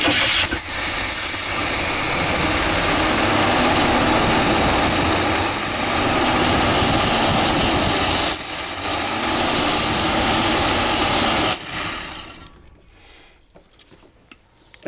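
An old Chevy engine, running again after sitting unused for 27 years, roars loudly and steadily at close range for about twelve seconds, then shuts off into near silence with a few faint knocks.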